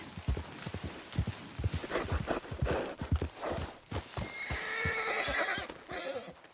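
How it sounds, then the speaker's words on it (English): A horse in the video game Red Dead Redemption 2 whinnies loudly and snorts amid a steady patter of hooves clopping on the ground, close by. "My horse collapsed."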